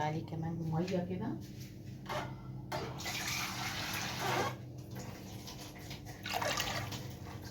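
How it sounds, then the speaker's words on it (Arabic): Water poured into a pot of yellow lentils with grated carrot and turmeric, a steady splashing fill running for several seconds at close range, mostly alone with brief bursts of louder pouring. "هحط عليه كمان مية كده."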